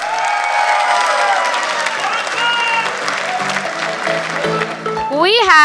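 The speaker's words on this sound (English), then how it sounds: "Give them a big round of applause." A corporate event audience applauds and cheers for magician Rajesh Kumar's performance, steady crowd clapping mixed with loud music and a host's voice over it.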